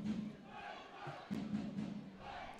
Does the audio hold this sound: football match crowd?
yes